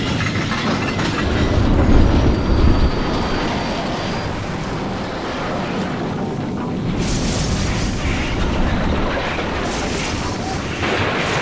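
Large steam locomotive rolling on rail tracks, with a continuous heavy rumbling clatter and a loud booming surge early on, ending in noisy bursts.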